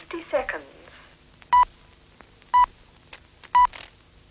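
Speaking clock time signal: a spoken time announcement followed by three evenly spaced short electronic pips, one second apart, clear and close.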